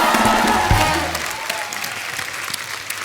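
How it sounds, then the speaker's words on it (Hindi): Studio audience applause on a TV comedy show, a dense burst of clapping that starts loud and tapers off, with a brief low musical sting near the start. "एक बार गुलशन जी के लिए तालियां हो जाए"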